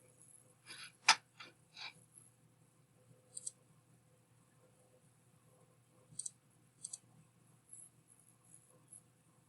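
A computer mouse clicks in a few faint, sharp taps, a quick cluster early on and scattered single clicks later, close but quiet against near silence.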